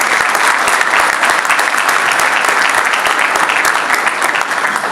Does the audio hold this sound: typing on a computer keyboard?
no